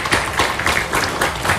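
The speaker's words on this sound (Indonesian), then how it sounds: "Tepuk tangan boleh?" Audience applause during a public talk, a short burst of loud, dense clapping from a crowd filling the moment.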